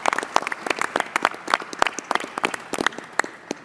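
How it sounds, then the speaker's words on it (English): Applause for healthcare workers at a hospitality and tourism roundtable, made of sparse, close, individual handclaps rather than a large crowd, steady and fairly loud throughout. "healthcare workers that I think deserve a big round of applause"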